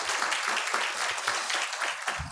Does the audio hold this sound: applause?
yes